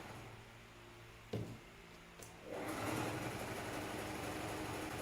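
A sewing machine stitching a reusable fabric mask: after a couple of clicks, a steady fast whirring run starts and holds, close and fairly quiet.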